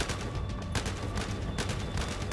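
Gunfire in the video game Battlefield Hardline, a dense, continuous stream of shots and bursts with short louder cracks, steady and close throughout with no talk.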